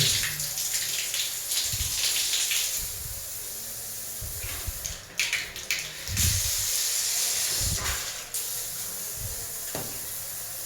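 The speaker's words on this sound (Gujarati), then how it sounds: "આ શાવરનું પ્રેશર છે" A shower on newly fitted plumbing sprays water at pressure, giving a continuous close hiss of running water broken by a few louder splashing bursts, with no talk.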